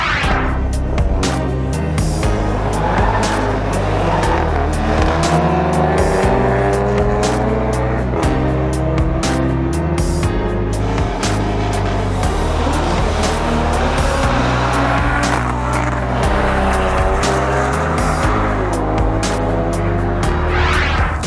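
Drag racing cars accelerating hard at a strip during an acceleration racing day, a loud continuous engine roar with rising revs and dense mechanical noise throughout, no talk.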